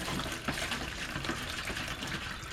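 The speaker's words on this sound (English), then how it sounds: "Now I am to gradually stir in 2 quarts of water" Good, clean tap water is poured and stirred into a starch mixture, giving a quiet, steady splashing and trickling of liquid.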